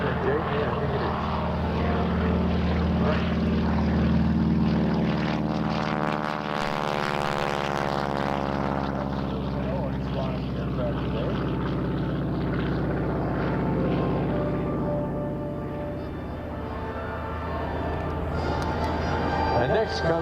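Propeller airplane engines drone loudly overhead at an airshow in Geneseo, the pitch shifting as a T-6 trainer passes and a second one follows.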